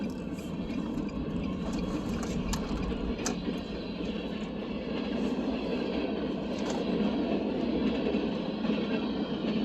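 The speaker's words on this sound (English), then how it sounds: "till the train goes by." A train rolls past close by at a street corner, a steady, loud rumble of wheels and cars lasting throughout, with faint squeals and clacks over the continuous roar.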